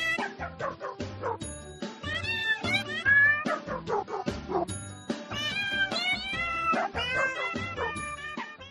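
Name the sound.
Christmas song made of cat meows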